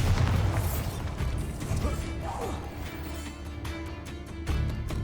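A Bombarda blasting spell in the video game Hogwarts Legacy, heard as a loud crashing burst with booming impacts, followed by rumbling debris and clattering over several seconds.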